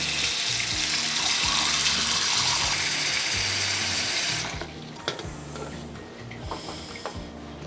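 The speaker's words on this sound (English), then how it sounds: "Fill it back up with water." Water runs loudly into a PetSafe Seaside stainless steel cat water fountain, a steady rushing stream with mechanical clicking that stops after about four seconds, leaving faint drips and handling clatter.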